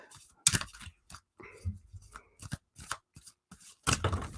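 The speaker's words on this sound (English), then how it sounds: "there goes that great shuffling skill of mine" Tarot cards are shuffled by hand nearby, giving a string of quick, crisp riffling and slapping bursts with short pauses between, fairly faint overall.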